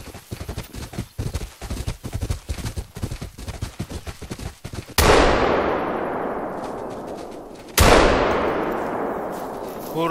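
Two loud, sharp rifle shots ring out in theHunter: Call of the Wild during an African buffalo hunt, each followed by a long decaying echo, after a stretch of rhythmic footsteps and rustling movement.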